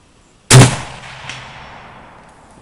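A single sharp, loud rifle shot from a Type 99 Japanese sniper rifle, a crisp crack with a long fading echo tail trailing off over a couple of seconds.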